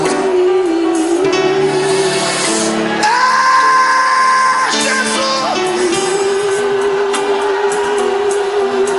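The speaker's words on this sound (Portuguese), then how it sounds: "Até você que não gosta de dar barulhos tem que gritar agora." A church congregation shouts and cheers loudly during a service, a dense roar of raised voices with whoops over reverberant sound that swells and holds before settling back.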